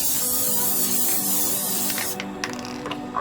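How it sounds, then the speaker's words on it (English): Spray glue hisses from an aerosol can in one continuous close burst for about two seconds, then stops, followed by a few faint clicks and handling noises on a side-table upcycling project. "So with the spray glue, you have to spray both surfaces."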